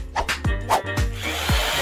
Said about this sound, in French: En fait, elle a une perceuse pour t'aider.